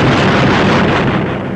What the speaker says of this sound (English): The air is full of flak and Fokker Wolfs and flying forts.